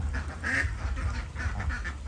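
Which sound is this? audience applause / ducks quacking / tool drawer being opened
ducks quacking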